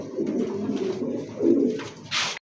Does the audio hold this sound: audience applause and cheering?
no